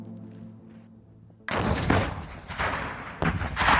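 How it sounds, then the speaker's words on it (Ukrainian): A single heavy blast from an RPG-7 grenade launcher shot booms out suddenly after a quiet, low hum, followed by rolling echo and a second loud crack near the end. "Посил з РПГ 7."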